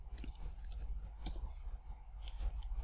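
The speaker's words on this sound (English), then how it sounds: "I'm going to right click on the project, add new folder" Computer mouse clicks while working in a code project, several sharp, faint clicks scattered at an uneven pace over a steady low background hum.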